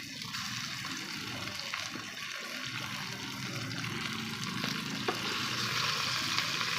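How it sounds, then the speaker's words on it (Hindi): Chicken and onions sizzle and fry steadily in a pan for a Hindi-style kadu (bottle gourd) chicken curry, a continuous close hiss with faint stirring and no talking. "अब इसको अच्छे तरीके से चिकन को इसके साथ हम फ्राई करेंगे।"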